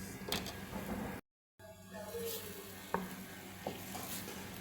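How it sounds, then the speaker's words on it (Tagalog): Chicken strips hitting a hot pan for chicken orzo pasta, a soft sizzle with a few scraping stirs and light clicks against the pan, fairly quiet, after a brief gap of silence. "and now we add the chicken strips"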